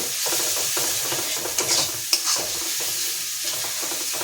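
Koi fish frying in a pan, stirred with a steady sizzle and scraping spatula strokes, close and continuous with a couple of sharper clinks.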